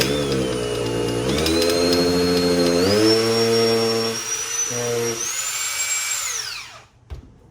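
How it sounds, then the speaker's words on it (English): A power drill drilling out a broken screw in a chair whines steadily, its pitch rising in steps as it bites, then winds down and cuts off near the end. "drill out the other end of the screw that's broken off so it makes room for the new screw"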